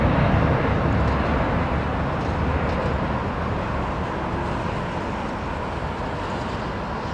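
An airliner departing Heathrow Airport, a broad continuous jet roar that fades gradually as the aircraft climbs away, without talk.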